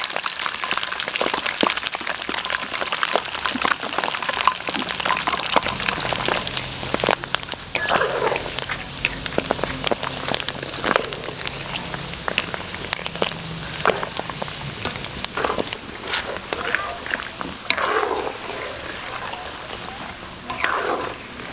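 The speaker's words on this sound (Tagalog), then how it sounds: "ipiprito na natin yan" Limpo for pinakupsan fries in hot oil with a dense, steady sizzle and crackle, close and loud, and a voice briefly heard over it.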